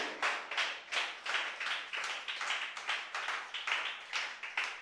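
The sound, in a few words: congregation applauding the Lord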